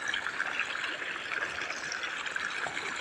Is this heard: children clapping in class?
no